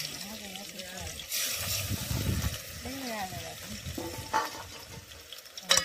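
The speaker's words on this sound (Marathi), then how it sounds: "तर हा मसाला असा चांगला असा परतवायचा आहे." Spice masala sautéing in hot oil in a pot, a soft sizzle and scraping stir beneath a voice talking throughout, with a few louder clinks of the spoon against the pot.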